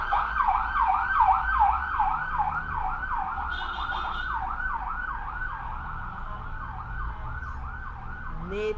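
A wailing emergency siren cycles up and down repeatedly, moderately distant, over a low rumble of road traffic.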